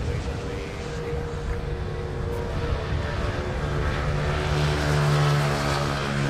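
A Cebu Pacific Airbus A330-900 Neo airliner at Manila Airport, its engines giving a continuous broad roar with a steady low drone. Someone talks over the sound.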